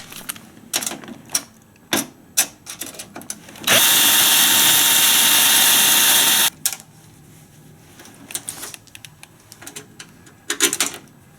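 A power drill runs steadily for about three seconds, loud and close, framed by scattered clicks and handling noises before and after.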